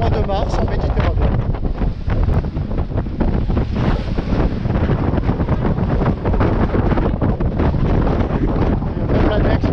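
A strong Mediterranean wind in March blows across a sailing boat at around 25 knots, roaring loudly into the microphone with buffeting gusts and water rushing beneath it.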